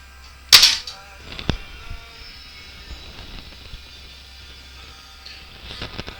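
Daisy 499 BB gun fired once, a sharp near crack early on followed by a fainter tick, then quiet background hum with low rustling.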